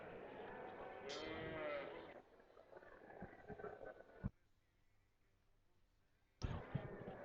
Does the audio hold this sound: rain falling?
no